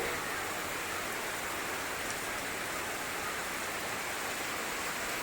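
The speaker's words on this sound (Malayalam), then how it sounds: "പുറത്തുതാ നല്ല രീതിയിൽ മഴ പെയ്യുന്നുണ്ട്" Heavy rain falls outside a home in a dense, even wash of noise that stays constant and fairly faint throughout, with no voices or other sounds.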